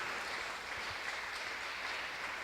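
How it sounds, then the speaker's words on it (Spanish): Steady, dense applause from a large church congregation, continuous and even throughout with no talking over it. "¿Cuántos pueden darle un aplauso a ese Dios maravilloso?"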